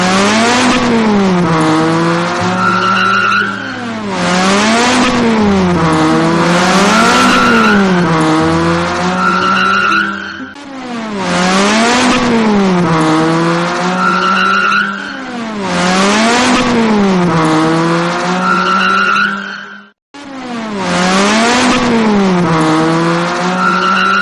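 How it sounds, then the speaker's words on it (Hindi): A car speeding at full throttle along an empty road at night, its engine note rising and falling in repeated surges with tire squeal, loud and close throughout with a brief dropout near the end. "सुनसान सड़क, फुल स्पीड में गाड़ी चल रही होती है।"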